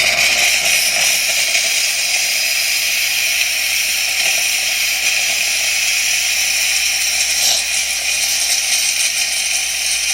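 An espresso machine's steamer wand releases a steady, loud hiss of steam that runs continuously for about ten seconds, with faint mechanical rattles beneath it.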